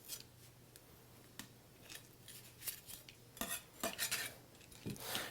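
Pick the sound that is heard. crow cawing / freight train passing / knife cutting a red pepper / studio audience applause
knife cutting a red pepper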